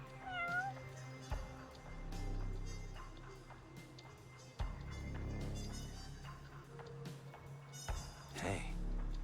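A stray cat in the video game Judgment gives a few short, clear meows near the start, set against steady in-game ambience and low background sounds.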